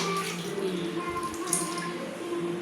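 Dirty water runs steadily from a tank into a bucket, a continuous close splashing pour with a faint hum beneath it and no talk.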